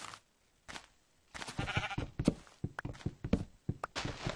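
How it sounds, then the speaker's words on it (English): A sheep in Minecraft bleats amid footsteps and blocky thunks, with short bleats scattered across a few seconds at close range. "Hey, sheep."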